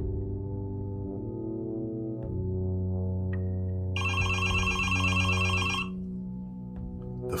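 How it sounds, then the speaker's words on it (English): A telephone rings once in a bright, trilling burst of about two seconds, heard over a low background music bed. "the phone rang again."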